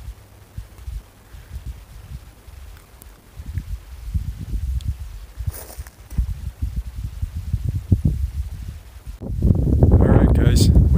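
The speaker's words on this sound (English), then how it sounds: "That wind is getting pretty cold." Cold wind gusts across a mountain summit, rumbling against the microphone in uneven bursts, with footsteps and a rise into a louder, steady roar near the end.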